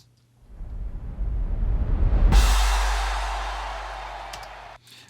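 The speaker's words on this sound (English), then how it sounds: "So at the top here, we have a sub kick, a crowd shot, a crash, and an explosion." Layered production effects for a music session build together: a deep sub kick and swelling crowd noise rise into a sudden bright crash and explosion, with the low boom decaying over a few seconds before cutting off.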